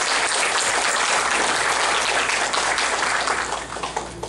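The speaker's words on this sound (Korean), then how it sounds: "크게 박수로 환영해 주시면 고맙겠습니다" Loud, thick applause fills a hall at a launch ceremony for the ICME-12 mathematics education congress committee, many hands clapping together in a continuous roar that tapers slightly near the end.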